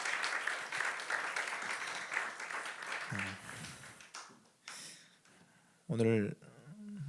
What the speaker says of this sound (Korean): 우리 아벤자매를 위해서 다시 한 번만 큰 박수 부탁드리겠습니다